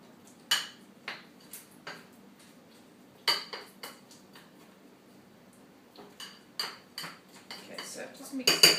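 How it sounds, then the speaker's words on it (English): A spoon stirring a syrup mixture of onion in a pot, giving sparse metallic clinks and scrapes against the pot at uneven intervals that grow quicker and busier near the end. "So just mix it all around."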